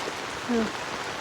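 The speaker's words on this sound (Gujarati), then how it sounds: "આ વરસાદ બંધ થવા નામ જ નહીં લેતું" Steady rain hisses evenly across the whole moment, a dense wash of falling drops with a brief faint tonal sound in the middle.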